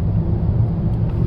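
A 2016 Toyota Yaris Hybrid engine pulls under acceleration, heard from inside the car as a steady, low, droning rumble with no distinct pauses.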